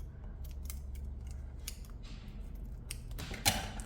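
Scissors snip through yarn during a crochet project: one crisp cut near the end, preceded by faint handling clicks over a low steady background hum.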